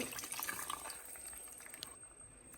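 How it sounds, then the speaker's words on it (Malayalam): Water poured into a pot of Kerala-style dried fish and mango curry, a soft steady splash and trickle close by, running for a couple of seconds before easing off. "ആവശ്യത്തിന് കുറച്ച് വെള്ളം ഒഴിച്ചു കൊടുക്കുന്നുണ്ട്"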